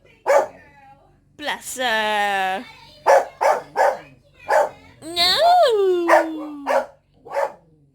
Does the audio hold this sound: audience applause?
no